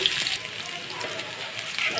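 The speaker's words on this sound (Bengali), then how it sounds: "তেলটা আমার গরম হয়ে গেছে এখানে আমি সবগুলো মাছ দিয়ে দিই ভাজার জন্য" A steady crackling sizzle of chanda fish frying in hot oil, constant and close, with a few faint pops.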